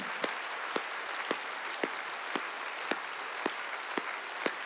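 A congregation at a Korean church's Wednesday worship service applauds in a steady wash of clapping, with sharp unison claps striking at an even beat about twice a second, moderately loud and without talk.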